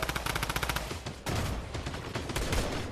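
Fortnite Battle Royale gunfire crackles in rapid bursts of closely spaced shots, dense and loud, then rolls into a sustained rattling volley.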